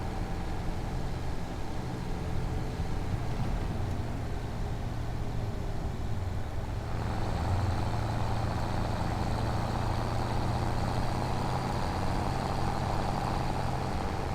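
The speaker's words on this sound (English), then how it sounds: "Inside this tractor is super loud." Tractor cab engine noise in Farming Simulator 25, a steady low droning rumble with a constant hum heard from inside the cab, growing slightly fuller midway, continuous and without talking.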